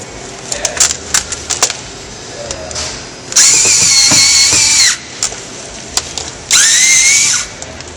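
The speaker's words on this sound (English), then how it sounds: "drilling a hole will allow the screw to go in nice and straight" A power drill whines steadily in two sustained bursts, each a couple of seconds long, with scattered clicks and handling noises before them.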